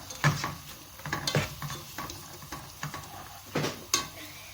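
Onions browning in a cooking pan for a mixed vegetable dish are stirred with a utensil, making a series of soft, irregular scrapes and light clinks against the pan, close and fairly quiet.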